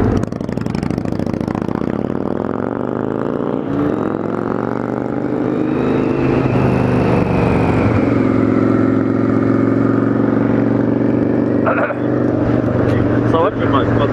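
A motorcycle rides along a freeway while lane splitting, a loud rising and falling engine drone with wind rush, heard close from the rider's position as the revs climb and ease off.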